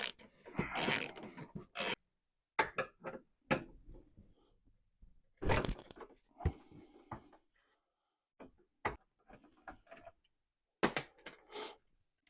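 Ratchet clicking in short bursts while removing the supporting bolts on a VW Jetta or Golf front end, close and moderately loud, separated by brief pauses and light mechanical clatter.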